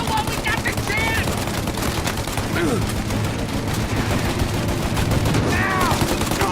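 Gunfire in the video game Mafia: Definitive Edition, with dense overlapping shots and bursts running throughout, loud and continuous, while voices shout over the firefight.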